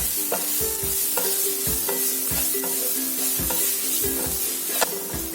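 Spices, coriander powder and fish masala fried and stirred in a pan for Kerala-style fish biryani, a constant sizzle broken by regular rhythmic scraping strokes of a spoon against the pan, close and fairly loud with no voices.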